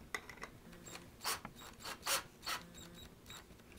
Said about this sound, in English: I put the screws in, and I put them in just far enough to where they just start to come through.